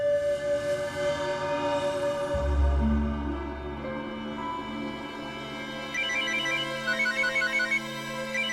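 A phone ringtone plays, a repeating electronic melody with steady beeping tones, fairly quiet and alone, with a brief low thud partway through.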